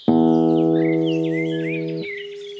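Birds chirp and twitter faintly in the background throughout, beneath a loud, sustained guitar note that rings steadily and cuts off at about two seconds.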